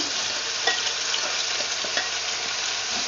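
Chicken adobo being stirred in a frying pan with softened tomato and onion, a steady sizzle of frying under scraping stir strokes, close and continuous with no talk.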